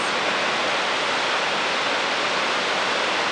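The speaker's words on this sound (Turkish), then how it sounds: "Size de bu şelaleyi çekmek istiyorum" Niagara Falls roars in a loud, steady, unbroken wash of water noise as heard from a bridge nearby, with no voices over it.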